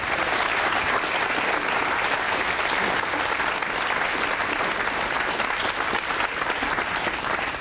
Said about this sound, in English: And the length of that applause says it all.